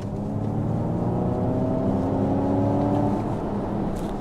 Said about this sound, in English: here's the propulsion sound of the Mach-E